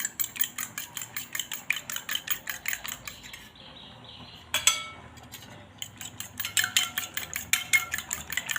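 Eggs beaten with a utensil in a bowl: rapid, rhythmic clinking taps against the bowl, close and fairly quiet, with a short pause midway before the whisking resumes.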